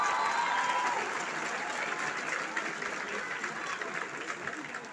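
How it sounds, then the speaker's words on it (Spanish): A large concert audience at Auditorio Telmex in Guadalajara applauds loudly, a sustained wash of clapping and cheering that slowly fades toward the end. "Un aplauso para ustedes, se lo merecen."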